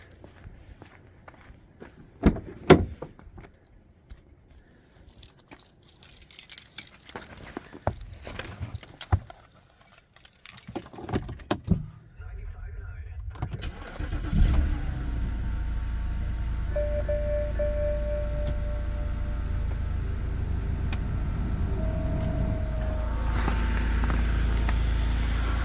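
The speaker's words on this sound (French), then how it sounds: "On va démarrer le moteur." A 2011 BMW 328i xDrive engine cranks and catches after footsteps and jangling keys, then settles into a steady, even idle that continues to the end.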